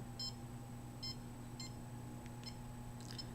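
An electronic detector emits short, faint high-pitched beeps, five or six evenly spaced chirps over a steady low electrical hum, indoors with no talking.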